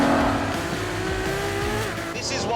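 A 950-horsepower hybrid supercar with an electric motor and battery, driven on track, roars loudly and steadily as it accelerates, with a tire squeal near the end and a voice talking over the engine.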